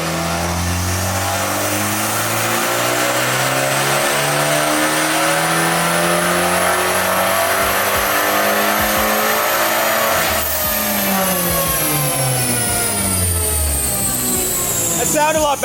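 A big-turbo Abarth 500 revs hard on a dyno, its engine note climbing through loud sustained pulls, dropping sharply and rising again, close and dominant with a voice briefly audible underneath.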